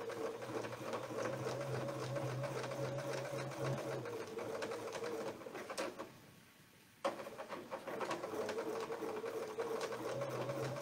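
A sewing machine runs steadily while stitching a quilt along coil templates, with a continuous mechanical hum and rapid needle chatter. It pauses briefly near the middle and then resumes stitching.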